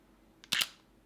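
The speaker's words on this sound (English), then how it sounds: "now compare this to the shutter of an interchangeable lens camera with the same size sensor" An interchangeable lens camera fires its shutter once, a crisp, close mechanical double click that fades quickly into silence.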